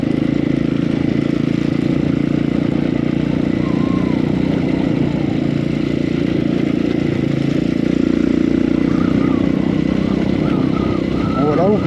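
Motorcycle on a muddy dirt track near Mont Mandray, Antsirabe, Madagascar, its engine droning steadily and close throughout, with occasional small rises in revs and faint bird chirps in the background.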